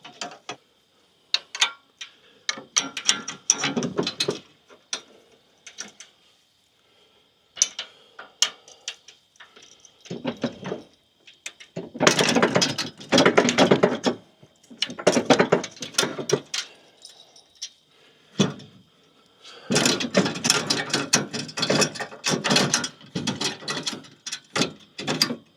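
A ratchet tightening parts onto a Deere quick-attach rake grapple, bursts of rapid clicking in repeated rounds separated by pauses, close and fairly loud, with no speech.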